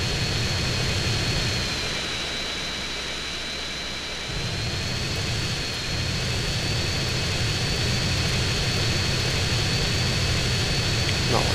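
Steady roar of a plane's engine while flying in for a landing in GTA: San Andreas, a continuous loud drone with a high whine over a low rumble that dips briefly and then holds level.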